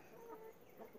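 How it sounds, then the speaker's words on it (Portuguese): Plump chickens kept on a family property in Ceará clucking softly in a brief, faint burst, with low murmuring from the flock and no talking. "Aqui é as galinhas que minha cunhada cuida."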